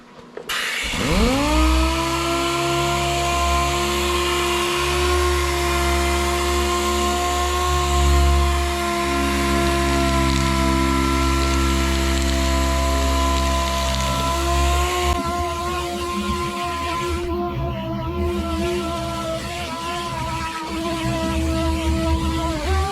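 A machine sander with 320-grit paper works across a Dodge car door panel at low speed, a steady, loud motor whine that spins up at the start and holds an even pitch, shifting slightly toward the end.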